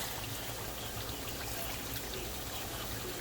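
Hot boiled water pours into a pot of meat being cooked for tamales, a steady close rushing trickle that runs without a break.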